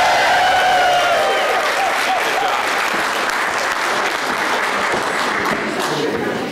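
A large crowd at a university spring welcome-back event applauds loudly and steadily, the clapping slowly fading toward the end.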